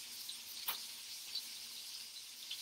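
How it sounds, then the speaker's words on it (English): Beef for Chateaubriand frying in a pan gives a faint, steady hiss, with one short sharper crackle partway through and no talk. "you hear that sizzling?"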